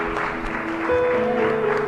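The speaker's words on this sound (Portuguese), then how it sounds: "Vamos aplaudir a Jesus bem forte." A church congregation applauding during a worship service, a dense, steady wash of clapping that stays loud throughout, with sustained tones from music or a held voice running underneath.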